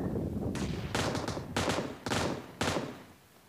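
Gunfire in the PUBG Mobile battle game as an enemy is taken down: several rapid bursts of shots, loud and close, separated by brief gaps, then fading.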